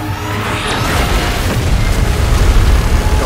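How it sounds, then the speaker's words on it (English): A loud, sustained booming explosion rumbles heavily from start to finish, blasting from Godzilla's beam in the mobile shooter PUBG Mobile. "Is it gonna fire a beam at us?"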